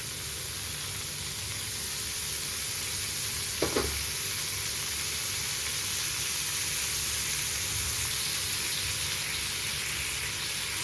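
Fish frying steadily on a dosa griddle, a continuous close sizzle with a brief clatter partway through as pieces go down, no talk.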